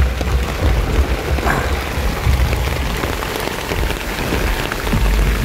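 Heavy rain drums steadily on a camping tent beside a roaring waterfall, forming a dense, loud, unbroken patter with low rumbling underneath and no voices.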